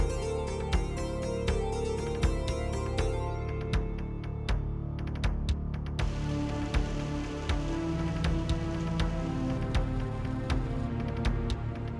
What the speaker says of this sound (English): When the heavy rain is hitting the ground, it's composing a warning melody